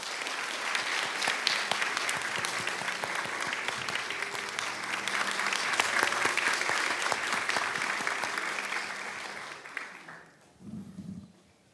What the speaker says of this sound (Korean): 뜨거운 박수로 환영해 주시기 바랍니다